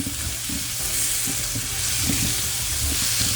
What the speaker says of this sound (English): Now my meat is starting to brown, as you can see here.